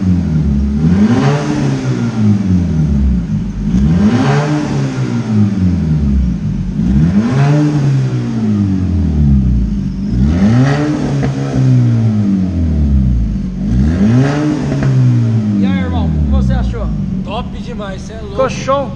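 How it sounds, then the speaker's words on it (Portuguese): Jeep Compass Limited 2.0 engine with stainless steel sport exhaust and valve open, revved five times in loud rising-and-falling sweeps close by, followed by a fading settle and a voice speaking at the end. "Agora, a gente vai abrir a válvula e vai mostrar para vocês barulho esportivo."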